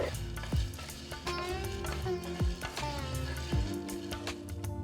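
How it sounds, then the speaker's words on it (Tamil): Garlic cloves and curry leaves frying in oil in a pan for South Indian milagu kuzhambu, a steady crackling sizzle under repeated metallic scrapes and knocks of a ladle, close and continuous, no speech. "ரெண்டு பல் பூண்டு போடுங்க அப்புறம் ரெண்டு கொத்து கருவேப்பிலை ஆட் பண்ணுங்கள்"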